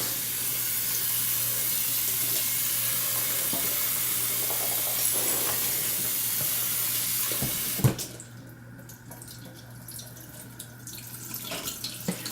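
Tap water runs steadily over peeled pomegranate halves in a sink, a continuous hiss that drops away near the end, leaving quieter handling and drips.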